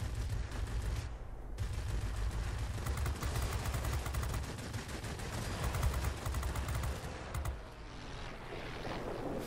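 Aircraft machine guns in World of Warplanes, flying a P-38J Lightning, chatter in rapid sustained bursts over a constant loud engine roar for the whole stretch, with no talk.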